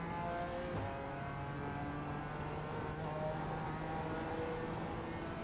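A BMW M4 GT4 race car engine in iRacing at the Miami International circuit, holding a steady, moderately quiet drone as it pulls under throttle, with no talk over it.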